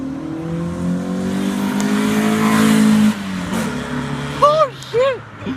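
A Honda hatchback engine revs hard and accelerates with rising harmonic pitch, loud and close from inside the car, before easing off as people exclaim and talk.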